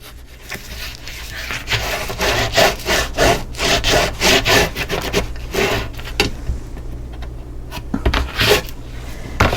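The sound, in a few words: burnishing glued paper of mini album cover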